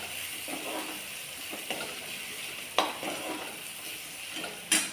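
Crushed peanuts stirred into hot oil in a pan, giving a steady close sizzle with a few scraping stir sounds and sharper clinks, no talking.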